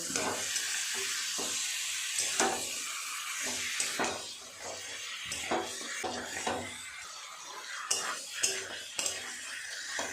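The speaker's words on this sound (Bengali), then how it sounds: "চিকেনটা দিয়ে খুব ভালো করে মশলার সাথে একটু কষিয়ে নেব এইভাবে" Chicken pieces sizzling and frying with spices in a pan for a Bengali chicken curry, while a spoon scrapes and stirs repeatedly in a steady rhythm, with close clinks of the utensil against the pan over a constant hiss.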